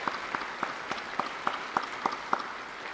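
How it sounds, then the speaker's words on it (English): Applause for school board members at a district convocation, a small, fairly quiet crowd clapping with a few distinct claps standing out in a loose rhythm, no voices. "So nice round of applause for them and their service"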